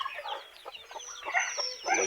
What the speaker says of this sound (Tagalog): Tapos ito yung mga sisiw nila.